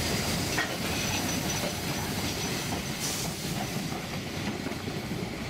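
A Selketalbahn narrow-gauge train rolls along the track down toward the valley, with a steady, loud rumble of wheels, hiss and faint squeal that lasts throughout, and no talking.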